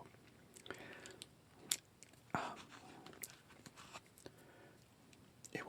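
Close, quiet chewing of a firm gummy candy, with soft wet squishes and a few sharper bites scattered irregularly through the stretch, intimate and whisper-level with no talk.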